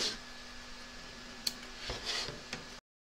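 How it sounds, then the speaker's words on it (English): Scissors snip a few times, quietly and close up, trimming excess appliqué fabric from around a machine-embroidered stitch line in the hoop. The cuts are sparse and separated by brief pauses. "Trim away the excess fabric from around the edge of the stitch line"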